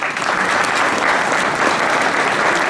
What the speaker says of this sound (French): je pense que ça mérite un applaudissement.